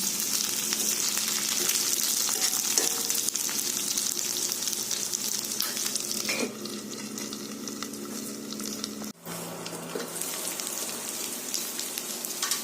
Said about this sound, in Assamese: আলু তেলত ভাজি ল'লে তাৰ ক্ৰাঞ্চিনেছটো আহে